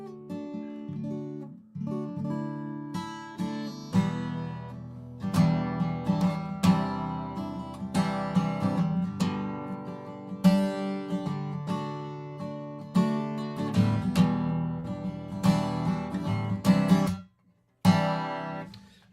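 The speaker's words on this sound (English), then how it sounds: "I've yet to find a guitar that sounds like this thing." A 1987 Guild acoustic guitar in tobacco burst finish is strummed and picked close up, ringing chords with a warm low end, played alone for about twenty seconds with a brief pause near the end.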